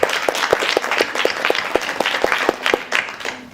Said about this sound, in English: a big round of applause to the last child who danced so well